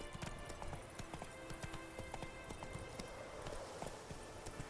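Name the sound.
Roach the horse galloping in The Witcher 3 video game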